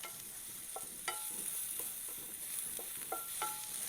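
Butter and mushrooms sizzle steadily in a hot pan for a chicken Marsala, with a constant fine crackle and occasional sharper clinks and stirring scrapes standing out near the listener.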